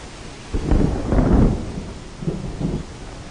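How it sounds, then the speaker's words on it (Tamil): Thunder rumbles in a movie scene as rain approaches, two low rolling swells, the first longer and heavier, the second softer, over a faint steady hiss of rain. "ஐயோ மழை வர போகுது, வாங்க வண்டி போயிடலாம்."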